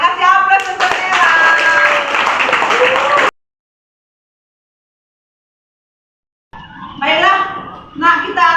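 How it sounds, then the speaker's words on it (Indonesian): A classroom of students gives applause for student Nela, a loud burst of clapping that cuts off into silence, then resumes in a shorter round near the end. "Kasih aplaus untuk Nela."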